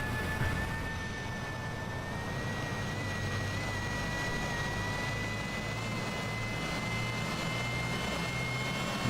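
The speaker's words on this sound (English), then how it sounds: "So engine number 1 is coming up." A Cessna Citation CJ4 business jet engine spools up at start in Microsoft Flight Simulator 2020, a steady, rising turbine whine with a sustained high-pitched tone over a constant low roar, held evenly throughout.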